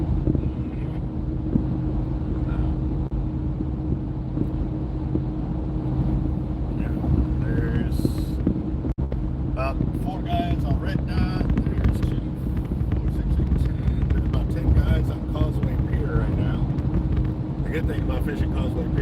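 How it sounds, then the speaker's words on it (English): Strong northern wind buffets the microphone at a fishing pier, a steady low roar and gusty rumble throughout. Someone talks over it at times. "the northern wind blows in like this"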